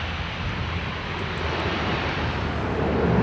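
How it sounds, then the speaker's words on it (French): A propeller airplane arrives at Lord Howe Island on the daily flight from Sydney or Brisbane, its engine drone steady and broad, growing slightly louder over a few seconds with no voices. "Chaque jour, un avion arrive de Sydney au Brisbane."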